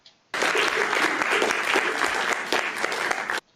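Audience clapping in a played-back recording: a burst of dense, steady applause starts abruptly, holds for about three seconds, then cuts off sharply.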